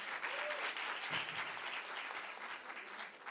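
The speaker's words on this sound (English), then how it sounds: "A big round of applause to her, please" A large audience at a Women in Media and Communications event applauds steadily, dense clapping filling the room for the whole stretch without letting up.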